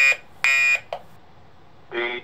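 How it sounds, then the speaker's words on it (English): Loud electronic alarm beeps in short bursts from a smoke detector on a 1980s home security system, repeating with uneven pauses, close and sharp. "Smoke detector is in alarm."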